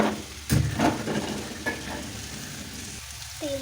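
Hot oil sizzling in a pan for khichdi, a steady frying hiss with a few soft clinks and stirring bumps early on, close and fairly quiet.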